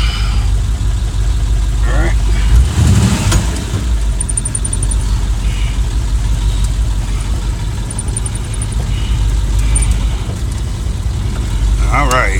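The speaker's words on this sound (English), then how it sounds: "Now, it's just like a hot rod Ford tractor." A Ford tractor engine runs steadily and loudly throughout, a continuous low rumble with a few brief knocks and rattles along the way.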